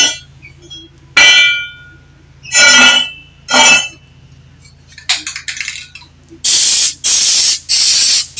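A spray paint can with a clogged, failing nozzle sputters through uneven bursts, with a few harsh spits and clanks early on, then three loud sustained hisses close by near the end.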